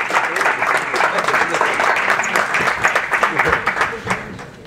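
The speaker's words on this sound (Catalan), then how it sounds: "els recibim en un fort aplaudiment." Steady applause from an audience at a round-table discussion, dense clapping that holds for several seconds before thinning slightly near the end.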